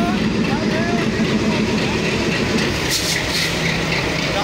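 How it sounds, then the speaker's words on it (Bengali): A WDM-3D diesel locomotive hauling the Titumir Express passes with a steady, loud rumble of rolling wagons and a clickety-clack of wheels on rails, the noise continuous throughout. "তেলখোর লোকোমোটিভ"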